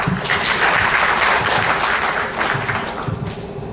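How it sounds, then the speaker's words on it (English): A seated audience gives a steady round of applause for the performers of a drama skit, a dense, even wash of clapping that holds for a few seconds and thins slightly near the end. "can we once again thank them with a round of applause?"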